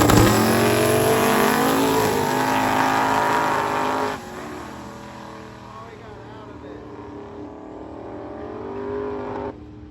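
Gasser class drag race car launching and accelerating at a race-week event, a loud roaring engine sweep that fades to a distant drone, then swells slightly at the end.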